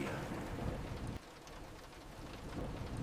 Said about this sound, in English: The tapping rain turns into a driving storm.